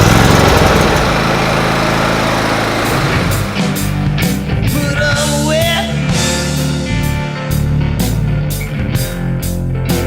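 A ridden lawn mower's engine runs steadily and loudly at close range, with a constant droning hum and slight shifts in pitch as it moves, and no voices over it.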